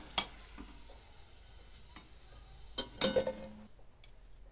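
Chicken pieces fry in oil in a pan for a Bengali potato and chicken curry. A faint, quiet sizzle is broken by a few sharp clicks and scrapes of stirring.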